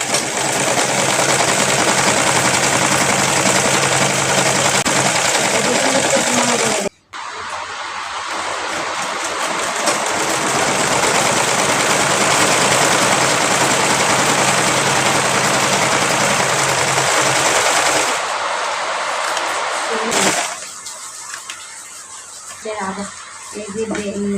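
A sewing machine stitches a women's salwar with a loud, steady close whir that stops briefly, then runs on before tapering into quieter handling; a voice talks over it.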